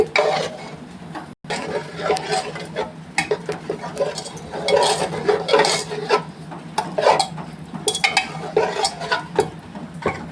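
Spinach and green chillies are worked with a wooden masher in a pot for a spinach bhaji, giving repeated soft knocks and squelching thuds in an irregular rhythm, close and moderately loud.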